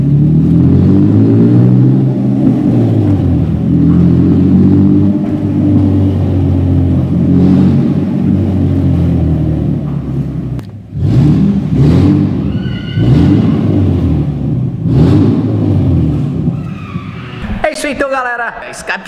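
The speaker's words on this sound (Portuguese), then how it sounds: "Vamos ver como é que fica o ronco do carro agora" A loud, raw Nissan 370Z engine without a muffler roars and revs in a building's garage, droning steadily before several sharp rev bursts, with a voice near the end.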